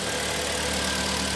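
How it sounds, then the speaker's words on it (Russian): Hyundai ix35 with a G4KD engine idling, whose fault is heavy oil burning from coked piston rings and a knock. It is a steady, even engine hum recorded close up, with no voices. "Давайте сразу послушаем мотор тогда."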